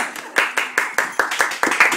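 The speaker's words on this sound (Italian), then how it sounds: "Un applauso per questa renna!" A small group claps in a quick, uneven burst of about a dozen sharp hand claps for a child dressed as a reindeer at a Christmas gathering, close by, with a voice talking over the claps.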